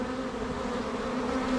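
Honey bees fanning their wings at the entrance of a hive box give a steady, close, continuous buzzing drone with no talking over it.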